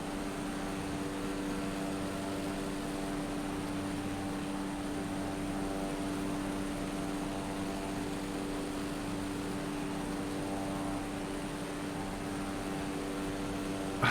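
A propeller airplane engine in Microsoft Flight Simulator drones steadily and loudly throughout, a dense continuous hum with a buzzing harmonic edge and no talk over it.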